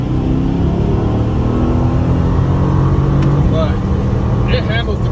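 A 2019 Mercedes-AMG GT C Roadster accelerates hard in race mode, its engine a loud, continuous, close roar heard from the cabin, with voices faintly present over the drone.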